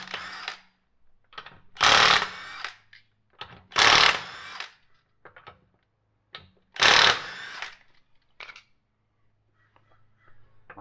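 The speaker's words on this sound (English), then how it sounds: "I'm going to be using an impact gun" Air impact gun spinning off the 22 mm lug nuts on a Honda Passport's wheels: three loud, broadband hammering bursts of about a second each, separated by quieter clinks and handling noises, with no talking.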